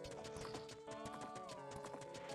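Hooves clip-clop in a steady galloping rhythm as a horse runs in Ocarina of Time Randomizer, set against a bright layer of game music, continuous and fairly close with no talk.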